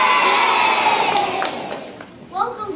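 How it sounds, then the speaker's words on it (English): An audience at a stage play cheers for the turtles, a loud burst of shouting and high children's voices that fades away, and then a brief new rise of voices follows. "let's all give a cheer for finally all the turtles are here"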